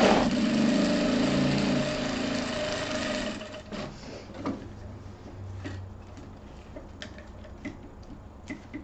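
Sewing machine running fast and steady while stitching a finishing seam on a wallet for about three seconds, then stopping, followed by scattered light clicks and handling sounds.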